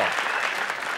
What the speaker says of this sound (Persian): تشویق بکنین